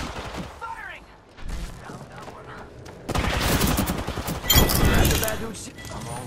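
Gunfire in the game Apex Legends: bursts of rapid automatic shots, loud and close, build into dense sustained firing in the second half, with a voice talking over the start.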